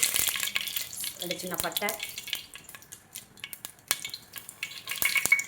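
Whole spices (cardamom, bay leaves, cinnamon) crackle and sizzle in hot oil for a country chicken biryani, a close, bright frying hiss with scattered pops as a voice talks over it.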